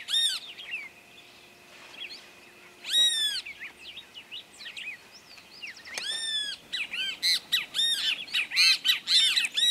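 Picazuro pigeon and other birds calling in Esperanza, Santa Fe, Argentina: scattered sharp squawks and chirps that grow denser and louder toward the end, heard against a quiet background.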